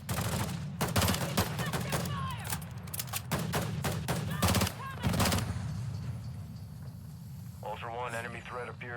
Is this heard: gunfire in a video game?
yes